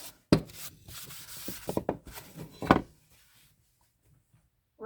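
A dry paper towel rubs over a thrifted item in a close, irregular run of scratchy swipes and scuffs, followed by near-silence.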